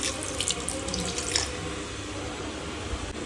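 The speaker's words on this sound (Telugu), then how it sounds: "కొన్ని వాటర్ పోసుకుంటున్నా ఇలా కొంచెం ఉడకడానికి." Water is poured into a pot of palak methi chicken curry, a steady splashing, gurgling stream heard close up and fairly quiet that tapers off toward the end, with no talking.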